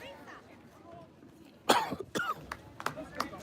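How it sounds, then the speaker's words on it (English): A sports commentator at a boys' soccer match coughs in a short burst of several harsh, close coughs and throat clearing, after a quiet stretch of faint background. "I just went into a coughing fit there."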